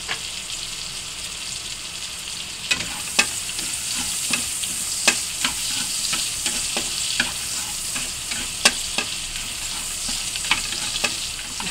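Chili sizzling and frying in a pan for ginataang alimasag, a crab dish, with a steady bright hiss and scattered sharp pops and crackles, close and continuous, with no talk.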